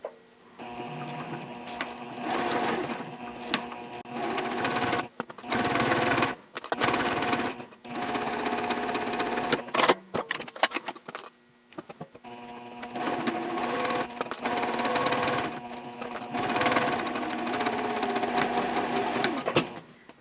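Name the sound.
sewing machine stitching side seams of sling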